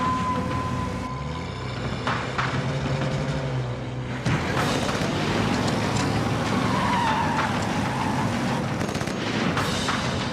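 A car speeds and skids through an action movie chase scene, with continuous loud engine roar and tire noise. A sharp jolt of harsher screeching and impact-like noise arrives midway, and no one speaks.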